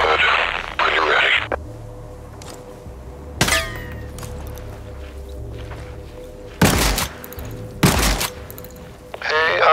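Sharp, loud gunshots ring out in an open-world shooter game, a few separate cracks spaced several seconds apart, with players talking over the game's background sound.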